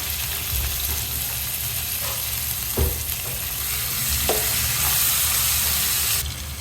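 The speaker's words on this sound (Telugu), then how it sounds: "ఇప్పుడు కట్ చేసి పెట్టుకున్న టమాటాలను కూడా యాడ్ చేసుకుందాము ఈ టమాటాలు అనేవి కొంచెం మెత్తగా అయ్యేంత వరకు ఉడి ఉడికించుకోవాలి" Chopped tomatoes cook in a pan for prawn pulao, giving a loud, steady sizzle and crackle up close, broken by a couple of brief scrapes from a stirring spoon.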